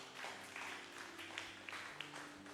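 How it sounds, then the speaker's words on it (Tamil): A congregation at a Tamil Sunday church service applauds, a faint, steady patter of many hands clapping, heard quietly from a distance. "ஒரு பலத்த கைத்தட்டலை கொடுங்க."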